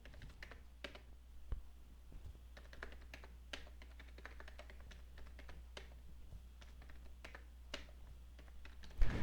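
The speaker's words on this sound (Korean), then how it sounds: "2650 쓰고 엔터 치고" Numbers tapped out on a computer keyboard with an enter press, quick irregular clicks in short bursts, soft and near over a low steady hum, no speech.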